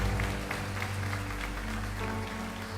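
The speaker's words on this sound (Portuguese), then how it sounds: "Você pode aplaudir mais forte a Jesus esta manhã?" Church congregation applauding at a morning service, a dense steady wash of clapping carried over a sustained low musical drone, loud and continuous throughout.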